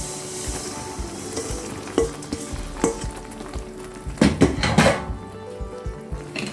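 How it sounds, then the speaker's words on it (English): Malido flour stirred into milk in a hot pan, a loud close sizzle with repeated scraping strokes and metallic clinks of the spoon, building to a busy cluster of stirring near the end. "Once you add the milk, add in the Malido flour."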